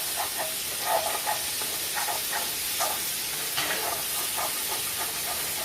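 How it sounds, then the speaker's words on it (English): Chicken thighs sizzle steadily in a tablespoon of olive oil in a skillet, a continuous close hiss broken by small popping crackles, with no voices. "I got them cooking in a tablespoon of olive oil"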